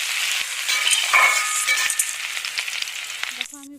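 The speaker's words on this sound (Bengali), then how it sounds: "পেঁয়াজ কুচি পেঁয়াজটাকে একটু লাল করে ভেজে নেবো" Chopped onion fries in a little oil in a wok, giving a dense, loud, close sizzle with crackling pops that fades near the end, followed by a brief tonal clink.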